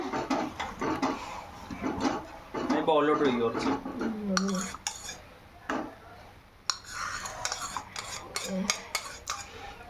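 A metal spoon stirs hot chocolate made with hot milk, clinking and scraping against the cup in quick, close, irregular taps, with a brief voice partway through.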